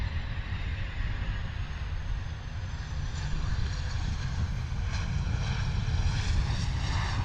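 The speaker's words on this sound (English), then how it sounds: "Bombardier Challenger 604, a little pocket rocket coming in from Istanbul." A Bombardier Challenger 604 private jet landing at London Luton Airport after a flight from Istanbul, heard as a steady, broad, continuous engine roar that holds loud and even throughout, with no talk over it.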